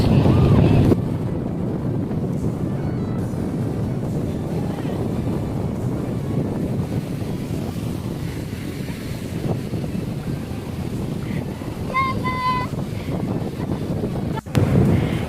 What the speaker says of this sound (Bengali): আমি জানি সাউন্ড একটু প্রবলেম হবে কারণ প্রচন্ড সমুদ্রের আওয়াজ